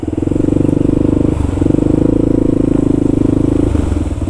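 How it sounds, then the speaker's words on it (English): A motorcycle engine brakes on a snowy New York City road right after a snowstorm, giving a loud, close, steady low thrum with brief dips in pitch as it slows. "Just engine brake."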